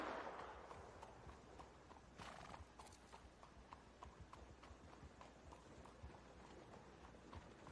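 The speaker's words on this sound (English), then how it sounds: "Dude, my horse is literally right here." Horse hooves clip-clop steadily in a Red Dead Redemption 2 game scene, a brisk repeating rhythm of hoof beats with a short whinny near the start, fairly quiet overall.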